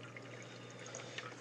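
Water trickling and draining through a U-tube overflow box in an aquarium setup, a soft steady pouring flow that is slowing down, heard close and alone.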